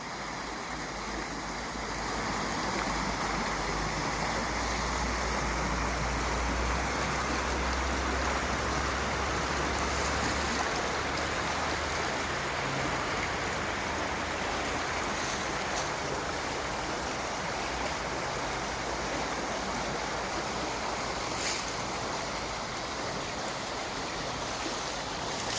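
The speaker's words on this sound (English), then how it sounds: "This pipe here is a storm sewer emptying into Cross Canal Brook from Harvest" Water pours steadily out of a storm sewer pipe into Cross Canal Brook, a loud continuous rushing wash that holds unchanged for the whole stretch.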